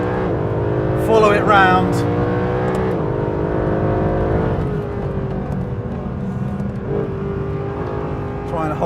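Mercedes SLS AMG Black Series engine, a 630-horsepower car, revs hard on a race track, its loud pitch rising and falling through gear changes while someone talks over it.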